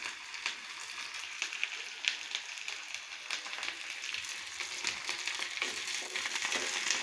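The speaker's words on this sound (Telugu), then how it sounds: "బాగా ఫ్రై అవనిద్దామండి" Curry leaves frying in hot oil for a Telugu fish curry, a steady soft crackle and sizzle running throughout at a low level, close by with no voices.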